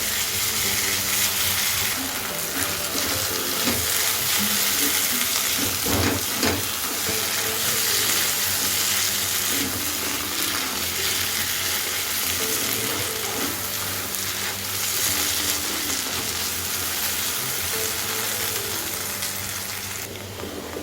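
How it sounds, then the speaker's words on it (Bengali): Snake gourd and sesame seeds fry together in a pan over low to medium gas flame, a steady loud sizzle with occasional stirring scrapes, lasting throughout without talk. "তিল আর চিচিঙ্গে একসাথে আর একটু কিছুক্ষণ সময় নিয়ে ভাজা ভাজা করে নেব"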